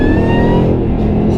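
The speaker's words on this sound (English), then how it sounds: "That exhaust sounds incredible." Loud, close exhaust roar from a modified supercharged Shelby GT500 under throttle, a deep continuous rumble with a faint rising whine above it.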